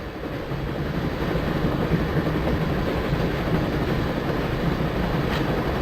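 A train sequence in the video game Broken Sword: a continuous, fairly loud rumble of rolling rail cars with a dense rattling texture, no speech over it.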